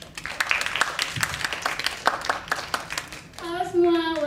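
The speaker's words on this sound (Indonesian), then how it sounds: "Kita beri tepuk tangan untuk Radela Dania Zabarani." Audience at a career seminar gives sparse, scattered hand claps for the moderator, moderately near, fading out as a single voice begins speaking at the end.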